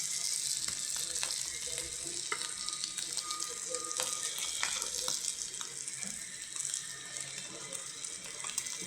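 Small prawn fritters sizzle in hot oil in a pan, a steady close hiss with crackling pops running throughout, no voices.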